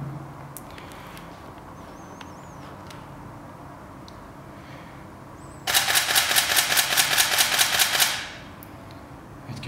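A Canon 5D Mark III camera fires a rapid continuous burst of shutter clicks lasting about two and a half seconds, close and loud, after a stretch of quiet background with no voices.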